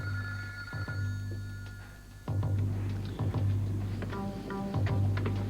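A telephone rings repeatedly in a room in a 1986 drama, its bell sounding in bursts over a steady low hum and background music.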